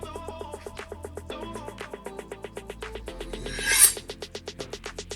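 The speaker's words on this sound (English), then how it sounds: "Then you're going to do the same on the other side to make sure that your knife is fully sharpened." Kitchen knife drawn across a sharpening tool in repeated quick strokes, a steady rhythmic rasping scrape close up with a brief louder swipe near the end, no talking.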